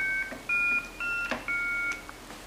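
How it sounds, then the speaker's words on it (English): A push-button phone tone dialer, modified to sound higher than a normal phone keypad, emits four clear electronic dual-tone beeps in a steady, evenly spaced sequence, each about a third of a second long, heard alone and close. "this modified tone dialer, and it's stepped up to make sounds a little bit higher than would normally be heard out of a normal push-button phone."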